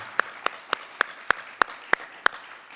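At a film festival press conference, someone claps eight sharp, evenly spaced times at a steady rhythm, close and distinct, over a quiet room.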